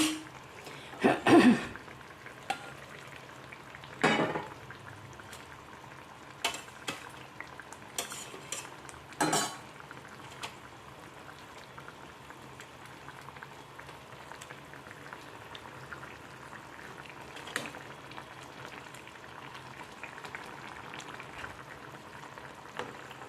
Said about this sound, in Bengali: মাছের ঝোল আমার ফুটে গেছে